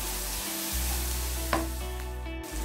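Turmeric and chili powder frying in oil for a singara potato filling, giving a steady close sizzle with a brief stirring scrape partway through.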